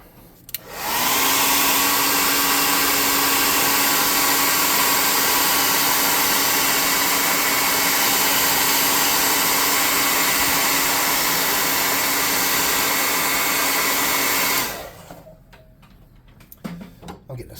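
Dryer blowing steadily on a painted miniature's base, a loud continuous whirring roar running unbroken for about fourteen seconds before cutting off abruptly, leaving quiet handling noises.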